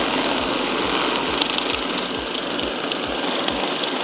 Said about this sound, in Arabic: راح يكون العد مستمر بدون توقف، العدادة ما راح توقف